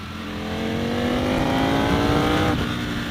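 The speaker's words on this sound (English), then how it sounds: "it already has the Akropovich exhaust already installed," A Ducati V4 Speciale sport motorcycle with an Akrapovič exhaust revs steadily upward with a rough, throaty exhaust tone, held loud and close for a few seconds.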